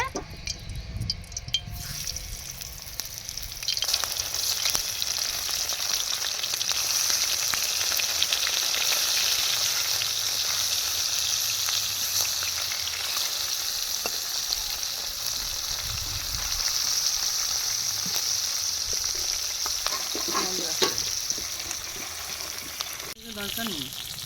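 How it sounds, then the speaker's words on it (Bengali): Bata fish frying in hot oil give a steady, loud sizzle that runs the whole length, with a few clatters and scrapes near the end and a brief voice at the start. "প্রথমে আমি এই বাটা মাছগুলো ভেজে নেবো তেল গরম হয়ে গেছে"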